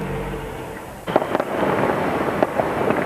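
Fireworks on bonfire night in Sheffield, a loud crackling barrage with several sharp bangs and pops bursting over a continuous roar, close and intense with no voices.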